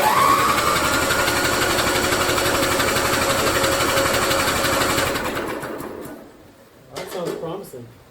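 A Scotts 1742S lawn tractor engine runs at full throttle, a loud, steady drone that holds for about five seconds before dying away, followed by a brief burst of noise.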